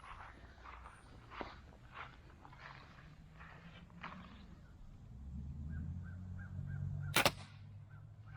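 A Slick Trick Raptortrick broadhead on an arrow strikes wood in a single sharp, loud impact near the end, after several seconds of quiet outdoor ambience with crows cawing in the distance.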